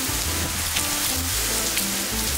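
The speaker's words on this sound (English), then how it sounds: "Is it raining? Yeah. Oh, it's getting windy now." Steady, dense rain hitting surfaces during Hurricane Milton, a loud continuous hiss close by with a low rumbling undertone, no voices.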